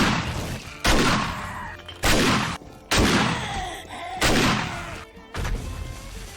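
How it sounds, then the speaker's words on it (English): Four or five heavy booming explosions in the video game 7 Days to Die go off in sequence, each a sharp loud blast followed by a rumbling decay, with game noise between. "there's the first of the explosions we're going to hear"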